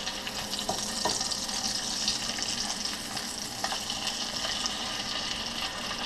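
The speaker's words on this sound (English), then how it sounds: "let's flip this fish over and see how it's cooking" Rainbow trout frying in a pan, a steady close sizzle with a faint watery hiss running throughout, broken by a few brief clinks or spatters.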